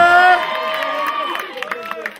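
A television music show audience cheers and whoops loudly, the roar fading slightly as scattered claps and shouts break through toward the end.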